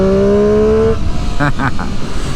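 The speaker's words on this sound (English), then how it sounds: "That sounds amazing. It's such airbox honk." 2019 Triumph Street Triple RS motorcycle engine with airbox honk, a loud steady high-revving drone that cuts off abruptly, followed by a few short throttle blips close by.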